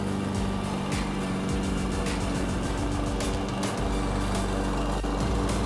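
A Huter GLM-7.0 SL petrol lawn mower engine runs steadily and loudly close by, droning with a buzzing, rattly tone throughout.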